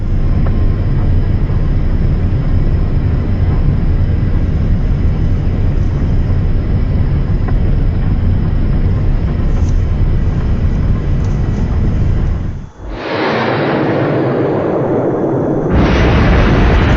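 A Boeing 777 with an engine failure after takeoff from Denver roars loudly and steadily. The roar drops out abruptly for a few seconds and then returns at full strength.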